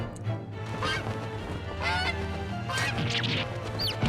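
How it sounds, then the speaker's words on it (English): Geese in The Great Ace Attorney honk loudly and repeatedly in a chaotic flock, their overlapping calls filling the scene continuously as birds scatter in all directions. "The birds are going everywhere."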